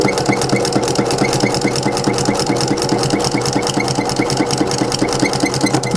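A sewing machine stitching a fabric coupon wallet runs steadily and loud, its rapid even needle clatter continuing without pause and with no voices over it.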